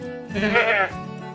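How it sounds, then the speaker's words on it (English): A sheep or goat at a livestock market gives one close, wavering bleat over a low background murmur. "Goats, sheep, small ones, big ones."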